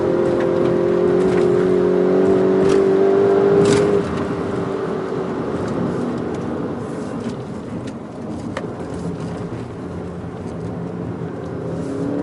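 A Volkswagen Golf GTI Mk8 drives a mountain road, its engine holding a steady droning note that drops away around a gear change or lift-off, then settles into a lower hum with road and wind noise.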